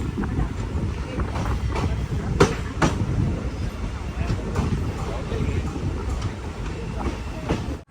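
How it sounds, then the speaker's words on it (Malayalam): The Matsyagandha Express rolls into Murudeshwar railway station with a steady rumble of wheels on track. Faint rhythmic clacks cut through a heavy, wind-buffeted roar that stays constant throughout. "മുരുടേശ്വർ റെയിൽവേ സ്റ്റേഷനിലേക്ക് ഇതാ നമ്മുടെ ട്രെയിൻ എത്തിക്കൊണ്ടിരിക്കുകയാണ്."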